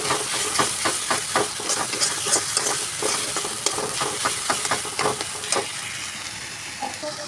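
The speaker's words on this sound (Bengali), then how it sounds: "নারকেলটা দিয়েও কষিয়ে নেবো একটু" Coconut paste is sautéed in a pan for a prawn malai curry, a continuous close sizzle with repeated rhythmic scraping stirs throughout, and no one talking.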